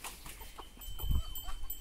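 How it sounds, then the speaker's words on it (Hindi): Chickens on a farm field, with short soft clucks from hens and a rooster close by, over outdoor background noise and a low thump partway through. No speech is heard during the clucking. "और वो देखिए, मुर्गा हमारा उधर गया है"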